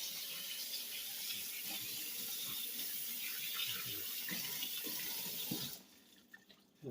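Tap water runs steadily into a sink while a chicken gizzard is rinsed out, a continuous close splashing flow that cuts off near the end, leaving brief faint handling noises.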